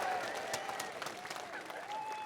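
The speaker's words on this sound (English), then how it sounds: "Give Richard a round of applause, everybody." A rally crowd at an NHS event gives a round of applause, heard fairly faint and distant as a steady patter of clapping with some crowd noise mixed in.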